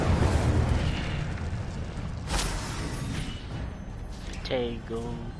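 Incendio fire spell cast in Hogwarts Legacy, a loud whooshing burst of flame with a booming rush that swells then fades, a voice speaking over the end.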